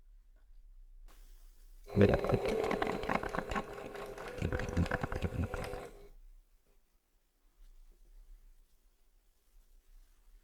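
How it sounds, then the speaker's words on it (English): A home sewing machine chain stitching quilt pieces for an attic window quilt, running in a loud steady burst for about four seconds, then stopping into near silence. "And I'm just going to chain stitch them till I have them all complete."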